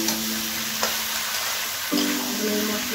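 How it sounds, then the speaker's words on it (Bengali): Young jackfruit stirred into hot masala and oil in a pan, a loud continuous frying hiss with a couple of brief scraping strokes, close by. "মশলা গায়ে লাগিয়ে দেবো ইঁচড়ে"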